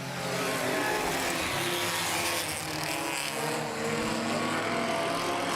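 Front-wheel drive compact race cars roar together at a restart of a heat race at Baer Field Speedway, a loud, continuous wall of revving engines close by, holding steady for several seconds with no talk.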